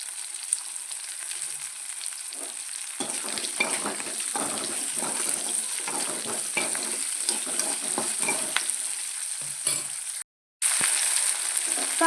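Shallots sizzle in oil in a pan, salted, for tomato chutney, a steady hiss with scattered crackles and occasional spatula scrapes, close and continuous, broken by a brief silence near the end, with no one speaking.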